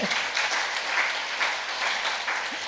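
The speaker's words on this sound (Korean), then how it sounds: "네, 그럼 박수를 좀." An audience claps together at a lecture hall session, a steady, fairly loud wash of applause that holds evenly for a few seconds.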